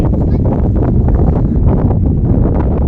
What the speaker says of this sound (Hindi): काफ़ी तेज़ हवा जो है आना शुरू हो गई है